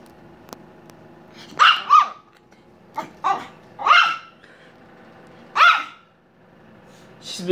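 A hungry dog barks eagerly for its dinner, with a quick series of loud, close barks and short yips in irregular bursts. No voices can be heard.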